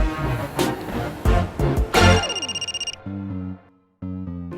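A mobile phone plays a loud electronic ringtone, a bright melodic tune followed by steady tonal beeps, heard up close while a call is being placed, with no talking over it.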